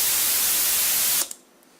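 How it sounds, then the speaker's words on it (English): Long, loud broadband white noise from a Massive synth patch fills the whole range evenly, then cuts off abruptly, leaving near silence with a couple of faint ticks. "So what we have here is just a long white noise,"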